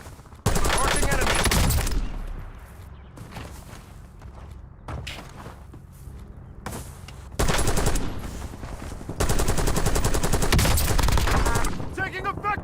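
Sustained automatic gunfire in the Warzone video game, loud and close, with long rattling bursts separated by a brief lull of footsteps and scattered thuds.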